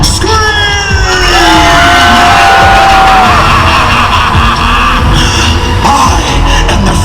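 A large crowd at Halloween Horror Nights screams, yells and cheers loudly and continuously, with whoops and pitched shrieks rising over a dense roar.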